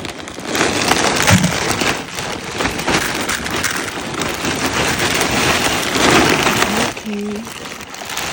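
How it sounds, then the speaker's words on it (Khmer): Heavy rain pours down outdoors where coconut palms are being fertilised, a loud steady hiss of drops on surfaces with voices talking over it. "អូយមេឃភ្លៀង"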